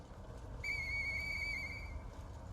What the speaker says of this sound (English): navigate to the back to find the faded whistle we picked up at Krat City